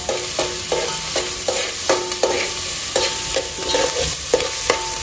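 Chopped onions with a pinch of salt fry in a pan for a Goan crab sukha, a steady sizzle broken by repeated rhythmic scraping and stirring strokes, close up with no voices.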